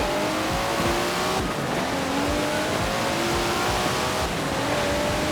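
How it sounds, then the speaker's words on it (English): A Datsun's engine revs hard and accelerates in the racing game Forza Horizon 4, a loud, continuous rising drone with gear changes and tire noise, heading toward Edinburgh. "Listen to that! Never heard a Datsun sound like that, have you?"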